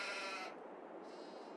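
A sheep bleats once on a farm, a loud, nasal cry in the first half second, followed by a quieter hiss of outdoor background.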